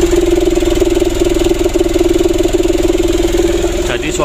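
A 2010 Canter truck engine idles through a loud aftermarket exhaust with a deep, throbbing rumble, loud and steady throughout, close to the listener.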